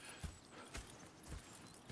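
Horse hooves clip-clopping in the Red Dead Redemption 2 video game, four soft dull thuds at a slow walking pace, faint and without talk.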